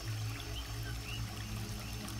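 A rainforest waterfall pours in a continuous, dense, steady rush of falling water, with no talking.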